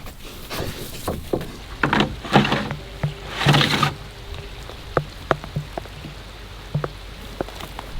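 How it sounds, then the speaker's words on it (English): Rain falls outdoors around an old cabin porch where pigs and a rooster are kept, a steady patter broken by scattered sharper drips and a few louder rustling bursts. "it is raining"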